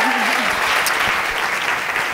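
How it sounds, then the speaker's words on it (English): Loud, steady applause from a summit audience, continuous clapping filling the whole stretch with a faint voice briefly audible early on. "Give her a round of applause."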